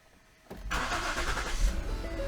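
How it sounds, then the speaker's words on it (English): A car engine cranks and catches after a battery voltage test, starting abruptly after a brief quiet moment and then settling into a steady, close idle rumble. "you heard the vehicle start a lot better that time"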